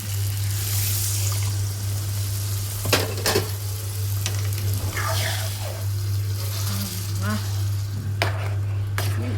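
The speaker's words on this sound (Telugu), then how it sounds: "ఇప్పుడు వాటర్ అయితే వేసేద్దాం." Ridge gourd frying in oil in a pan as water is added, producing a continuous sizzle with stirring, scraping and occasional utensil clinks against the vessel.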